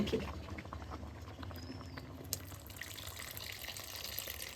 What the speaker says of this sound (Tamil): ஊத்து இப்போ புளி